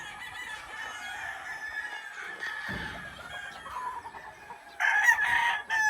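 A Gilmore Cross Salomon 84 gamefowl rooster crows on a game farm, one drawn-out call over faint background clucking and farm noise, with a louder stretch of crowing closing the moment.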